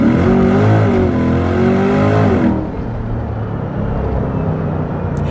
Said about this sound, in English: Sport mode, double tap the traction button, slam the brakes, slam the gas.